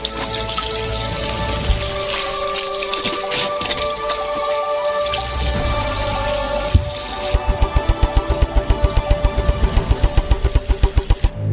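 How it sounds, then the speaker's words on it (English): Tap water running into a sink to wash oranges, a loud continuous splashing stream that shifts midway into a rhythmic burst of regular pulsing gushes, with no talk. "Fill it up with water."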